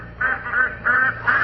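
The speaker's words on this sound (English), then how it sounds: "Ducks, all right, if I ever heard one" Radio sound-effect ducks quacking, four distinct nasal quack bursts in a steady rhythm over a faint low background hum, moderately close and clear.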